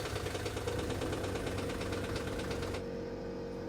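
A neighbour's vehicle engine idles nearby with a steady, mid-pitched rumble and vibration that runs throughout, then drops away slightly near the end, with no voices.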